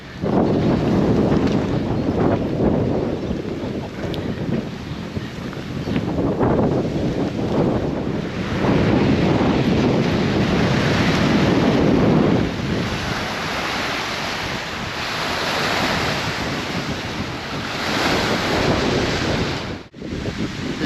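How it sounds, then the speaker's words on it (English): Strong wind buffets the microphone outdoors by a loch in Scotland, a loud continuous rumble that swells and eases in gusts throughout. "It has got a nice breeze today, as you probably tell on the camera."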